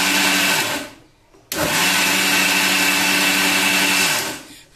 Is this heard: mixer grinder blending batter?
yes